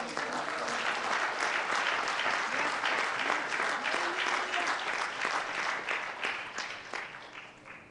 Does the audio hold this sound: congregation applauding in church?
yes